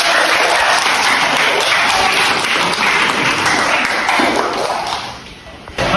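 A classroom or lecture group claps together after a discussion of stylistic analysis, steady dense applause close by that carries on for several seconds before tapering off at the end.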